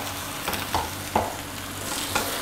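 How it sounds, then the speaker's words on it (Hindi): Chicken frying in spice masala over medium heat, a steady broadband sizzle with a few stirring scrapes and clinks at intervals, close and fairly loud, no talk. "और चिकन को मीडियम हीट पर 2 मिनट के लिए इस मसाले में भूनेंगे।"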